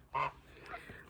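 A single short, nasal goose honk rings out near and clear on a farm, followed by faint softer bird calls.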